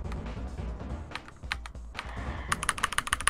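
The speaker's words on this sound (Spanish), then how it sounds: "Eso es teclado mecánico, ¿verdad? Yep. Con red switches." Mechanical keyboard with red switches being typed on, a quick run of close, crisp key clacks that speeds up into a dense burst near the end, with no voices.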